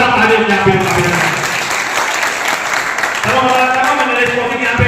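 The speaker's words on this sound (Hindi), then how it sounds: "आदरणीय श्री कटारिया जी जोरदार तालियों से आप अभिनंदन" Loud, continuous applause from a gathered crowd at a public function in Kanina, dense clapping throughout with voices mixed in beneath it.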